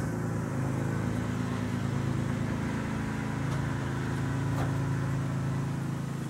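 A 1964 Pontiac GTO engine runs with a steady, low, quiet hum and no revving throughout.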